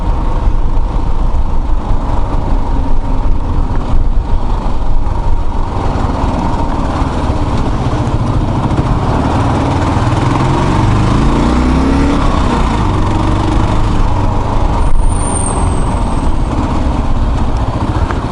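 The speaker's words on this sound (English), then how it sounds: "I realized how bad this engine sounds. I'm used to it. I've had it since day one, so I'm used to that horrible racket" Kawasaki KLR motorcycle engine running steadily after a teardown, a loud, continuous rattling racket that holds an even drone throughout while riding.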